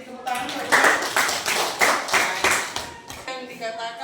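A classroom group claps in unison, a series of broad, loud bursts in a fairly steady rhythm up close, with voices in the room around it.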